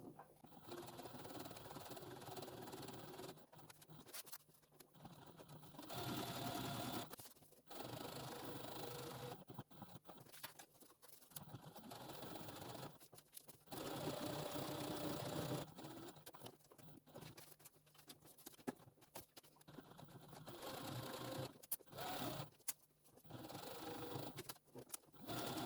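Home sewing machine joining two layers of fabric for a beginner's reusable sandwich wrap, in quiet, repeated bursts of stitching separated by brief pauses.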